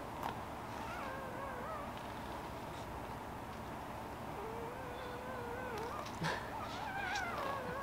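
Faint, high-pitched whimpers and squeaks come from one-week-old Boston Terrier puppies as they sleep, soft and intermittent over a quiet hiss.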